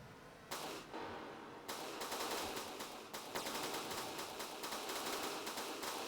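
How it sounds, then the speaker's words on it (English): A mounted MG32 machine gun in the game From The Depths fires long, rapid bursts of loud, sharp shots, starting after a brief lull and hammering on almost continuously with slight pauses between bursts. "Quite a mean machine gun"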